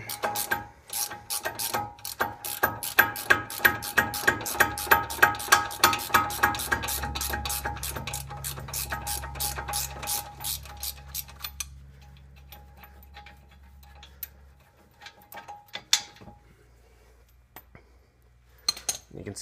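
A ratchet turns out a 17mm brake caliper bracket bolt on the front of a 2009 Ford Flex 2WD, giving a long run of quick close clicks that slows and stops, followed by quiet shuffling and a few clinks of metal.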